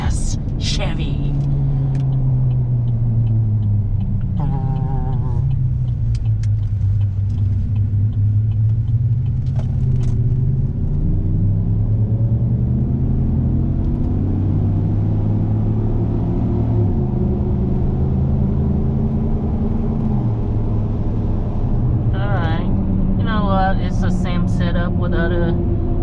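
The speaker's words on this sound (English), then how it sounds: "V8 power. American V8 power." The V8 of a 2016 Chevy Silverado Z71 pickup drones steadily while driving, a low rumble rising and falling with revs under ongoing talk inside the cab.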